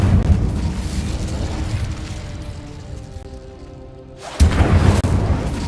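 A fire spell cast in a video game gives a rumbling whoosh that fades to near quiet, then a sudden loud burst erupts near the end like a blast.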